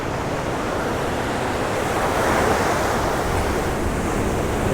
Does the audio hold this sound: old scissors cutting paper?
no